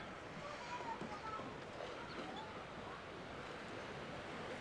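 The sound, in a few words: waves at a small municipal beach on Paphos sea front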